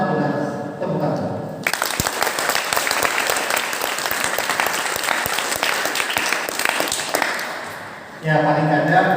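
Students at a university orientation give a loud, dense round of applause that bursts in after a speaker and runs steadily for several seconds, then cuts off as talking resumes.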